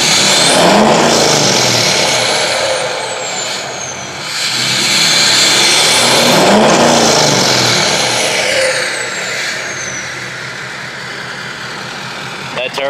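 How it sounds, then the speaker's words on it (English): Turbocharged truck engine revving in a few long swells, rising and falling with a turbo whine on each pull, loud and close, settling back to idle between bursts. "That turbo sounds good."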